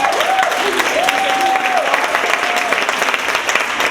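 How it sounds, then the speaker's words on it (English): A conference audience claps for two performers, Vicky and Vivica, with sustained, full-room applause continuing steadily throughout, while a faint tonal voice or hum briefly rises above the clapping. "give a round of applause for Vicky and Vivica"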